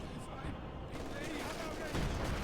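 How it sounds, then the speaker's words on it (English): MG42 machine gun bursts rattle in dense rapid volleys amid the battlefield din of the strategy game Company of Heroes 2, loud and continuous under a commentator's voice. "Does walk into an MG42 burst"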